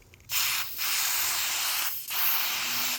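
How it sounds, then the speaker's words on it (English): Neutral cure roof and gutter silicone sprays in two long hissing bursts with a brief pause between, close and fairly loud, applied while fitting a rooftop tent. "spray a bit of silicone in here"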